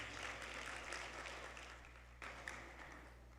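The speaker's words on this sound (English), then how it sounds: "Can we get another round of applause for them?" An audience at the AKMG 42nd Convention opening ceremony applauds the Chandamelam performers, a faint, distant, even patter of many hands that carries on steadily and tapers slightly.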